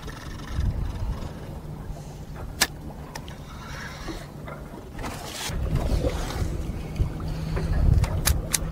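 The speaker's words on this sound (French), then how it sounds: "il y a un vent terrible qui se lève et c'est vraiment un vent effrayant" Strong wind on a squid-fishing outing buffets the microphone with low rumbling gusts, swelling louder toward the end, with occasional sharp ticks and knocks.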